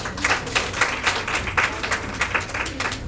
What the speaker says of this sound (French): Veuillez applaudir Madame Penda Mbow.